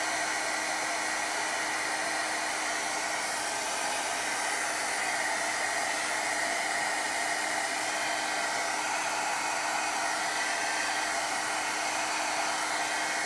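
A hair dryer blows on wet watercolor paint with a loud, constant broadband roar held steady from start to finish, close and uninterrupted, with no voices.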